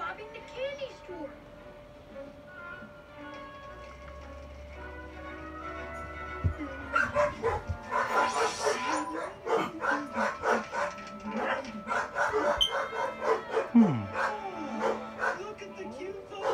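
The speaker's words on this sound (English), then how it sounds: "Look at the cute puppies with the superhero costumes." Puppies in superhero costumes barking and yipping in a busy run of short, repeated barks and whimpers, growing louder in the second half, with people talking in the background.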